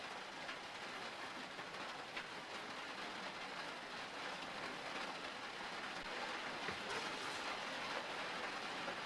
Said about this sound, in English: I was hoping I wasn't going to get any more rain today